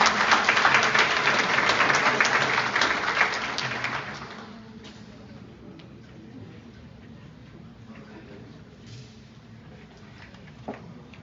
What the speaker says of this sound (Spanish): Recibámoslas con un cordial aplauso